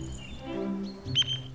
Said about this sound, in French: C'est toute une bande de grives musiciennes.